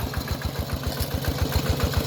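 A walk-behind two-wheel farm tractor engine runs steadily with a fast low chugging pulse, close and continuous, with no voices.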